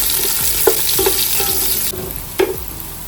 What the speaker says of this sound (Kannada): ಇದು ಹಾಕಿ ಮೆಣಸು ಹಾಕಿ ಒಂದೇ ಸಲ ಎಲ್ಲ ಹಾಕಿ ಫ್ರೈ ಮಾಡ್ತೀನಿ